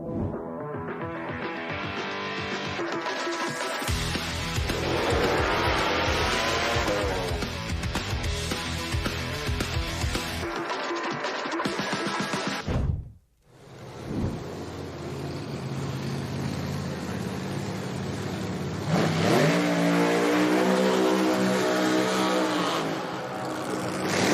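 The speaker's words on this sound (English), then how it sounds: "As the burnouts begin here" Pro Mod and Top Fuel drag race cars perform burnouts at an IHRA Outlaw Nitro Series qualifying event, a loud, sustained engine roar and tyre scream that cuts out abruptly midway, then roars up again.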